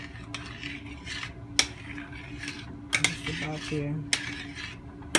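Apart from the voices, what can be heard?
stirring yellow rice with pink beans in a pot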